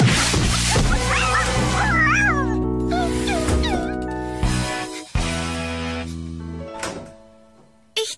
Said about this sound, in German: Mieze!